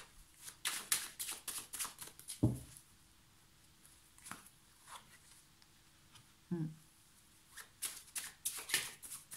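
Tarot cards being shuffled and drawn by hand, quick papery riffles and flicks in short bursts with pauses between, close by, while someone speaks French in between.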